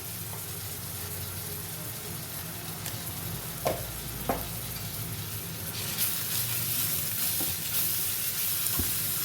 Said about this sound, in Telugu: ఒక స్పూన్ అల్లం వెల్లుల్లి పేస్ట్ వేస్తున్నాను నేను.